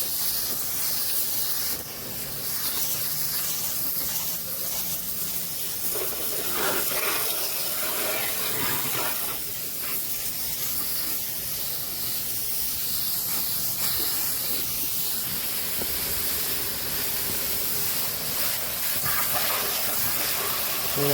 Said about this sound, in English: just kind of spray it down, not in.